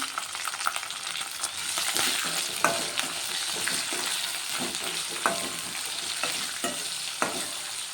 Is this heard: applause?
no